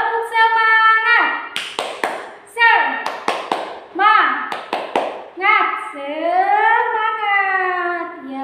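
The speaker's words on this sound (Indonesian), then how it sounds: "Kita tepuk semangat dulu ya." A class of children chants together in a sing-song rhythm, punctuated by sharp, unison hand claps in short groups, loud and close, with the chant running throughout.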